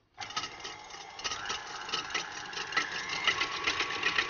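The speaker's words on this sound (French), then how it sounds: "on va monter tout doucement notre crème au batteur en augmentant progressivement la vitesse" Electric hand mixer beating cream in a bowl, its speed raised gradually, a steady close motor whine with rattling, continuous throughout with no talk.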